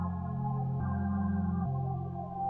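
A slowed, half-time melodic sample loop in FL Studio, with sustained tonal layers and low bass notes shifting at two points, playing continuously and fairly loud with no talking.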